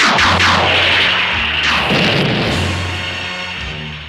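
Laser cannon blasts at meteors in a video game, a loud booming discharge with a falling, sweeping tail that rings out, then a second blast that fades gradually.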